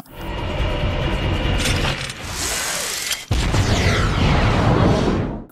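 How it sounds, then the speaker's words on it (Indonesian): A landmine goes off in an action film scene, a dense roaring blast with rumbling debris that carries on for several seconds, loud and close, with a second sharp surge partway through. "Satu ranjau meledak tepat di bawah anak buah Tapia."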